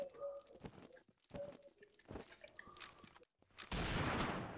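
Sniper rifle gunfire in a first-person shooter video game during sniper training: a few sharp, fairly quiet shots spaced apart, then a sustained loud burst of noise near the end.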